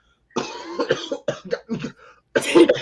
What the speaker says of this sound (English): got me coughing over here.